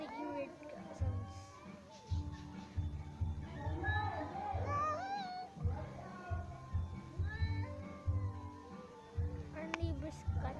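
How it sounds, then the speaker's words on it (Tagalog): A neighbourhood cat on a street gives a run of odd, wavering meows and chirps over steady background noise, with the calls coming in short bursts throughout. "Our neighbor's cat is making weird sounds."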